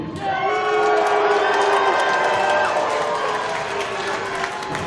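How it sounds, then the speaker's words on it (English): An audience at the IWC Night of the Superstars 3 wrestling show cheers and whoops loudly in a dense, continuous roar. The noise swells in the first second and holds steady to the end. "Cheer for me."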